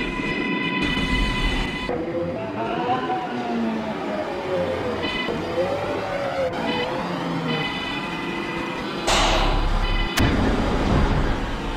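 Rolling stock noise from an R210 subway train in Roblox STS, a C train stopping at Jefferson Avenue station: a steady rumble with rising and falling motor whine and a loud burst near the end, with no one talking.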